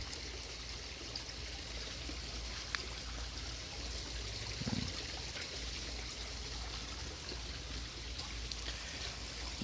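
Water falls steadily in a backyard pond waterfall, built from a converted swimming pool, as a constant soft splashing rush with no voices.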